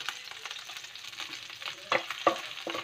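Onions and garlic frying in a pan for a sautéed vegetable dish, a steady crackling sizzle with sharp pops and a few stirring scrapes, close and fairly loud.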